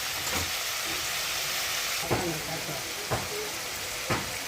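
Vegetables sautéing in a pan with a splash of water for a vegetarian dhoka curry, a soft steady hiss with a few sharp spoon scrapes at intervals, close and moderately quiet.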